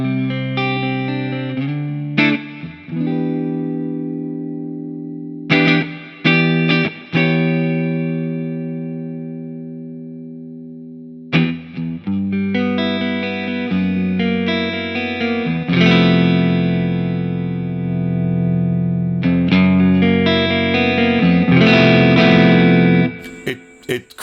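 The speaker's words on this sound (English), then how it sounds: "It crunches up a bit." Electric guitar through a ToneX tone with crunchy drive and plate reverb, strummed chords ringing out and sustaining, with short pauses between phrases and a long decaying wash of reverb.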